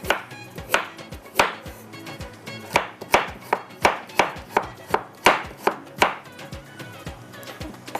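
A knife chops carrots on a board in steady, close, fairly loud strokes, about two per second, each a sharp knock with a brief crunch, with no voices.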